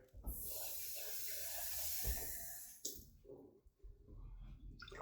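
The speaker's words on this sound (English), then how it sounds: "I'm gonna have a little bit of water in here." Water pours steadily into a pot for braising short ribs, a close continuous splashing hiss lasting a few seconds, then handling clunks and quieter rustling.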